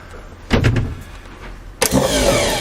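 Bendix starter motor running on a bench: a short whirring spin with a clunk, a pause, then a second louder sustained whir with a mechanical engagement click.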